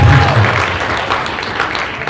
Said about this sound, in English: Please add him another congrats and clap